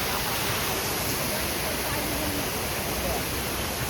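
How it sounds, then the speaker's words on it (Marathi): Water pours down a waterfall in a steady, loud, unbroken rush that fills the whole stretch without pause. "याच्यावरून जास्त पाणी पडतं"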